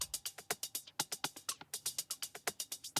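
A hi-hat loop and a percussion loop play together, a dense, steady stream of bright ticking hits with bouncy accents interlocking, clean and up front with no talking.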